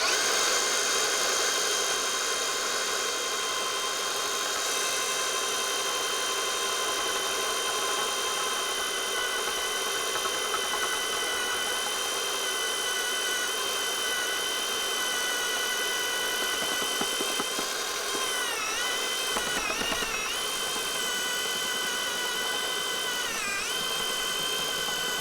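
DeWalt battery-powered auger digging a planting hole in garden soil, a steady motor whine droning throughout, close and continuous, with slight strain and pitch dips near the end.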